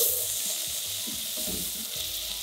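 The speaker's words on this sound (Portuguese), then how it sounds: "O alho começou a dourar, agora eu venho com 1 colher de sopa de cebola." Chopped garlic and onion fry in hot oil, a dense continuous sizzle with a few low stirring bumps, close and fairly loud throughout, with no voices.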